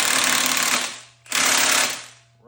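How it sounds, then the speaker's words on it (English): A Milwaukee impact wrench on its highest setting with a 15/16 or 24mm socket hammers an LS engine balancer bolt in two loud, close bursts of rapid rattling impacts, split by a short pause and trailing off at the end. "I always get my 15/16 or a 24mm socket in my Milwaukee. Put it on the highest setting,"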